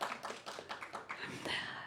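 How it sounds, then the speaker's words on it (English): Applause from an audience at a public meeting, a short burst of many hands clapping that stays fairly steady and moderately loud throughout. "Okay, you can clap."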